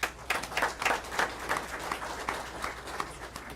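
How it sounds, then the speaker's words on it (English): A room of people at a school board meeting applauds: steady, dense clapping starting sharply and holding at an even, moderate level for several seconds, with no speech. "So if we could please give them a round of applause as well."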